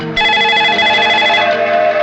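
A loud electronic telephone ring sounds up close as one continuous tonal trill lasting nearly two seconds, with no voices over it.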